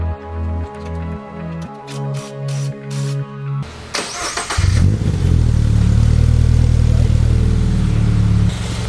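A 2022 Subaru BRZ with a JDL front pipe and a high-flow cat starts up and settles into a loud, steady, rumbling exhaust drone, with no talking over it.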